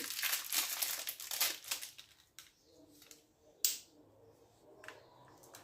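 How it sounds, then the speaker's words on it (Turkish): A plastic-wrapped fork is unwrapped close up with a burst of dense crinkling and crackling, followed by quieter sporadic rustles and a few sharp snaps. "Şimdi çatalımızı açalım."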